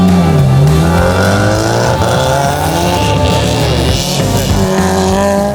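An Audi RS4 drives off with a loud, close engine note that rises and falls as it pulls away, steady and prominent throughout without talk.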